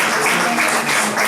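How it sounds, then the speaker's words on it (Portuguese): A church congregation bursts into a short round of dense applause during a worship service, the clapping close, loud and continuous with no speech over it. "Se quiser dar a Deus uma salva de palmas."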